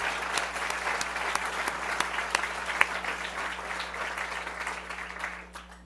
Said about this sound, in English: And we'll just applaud Jean.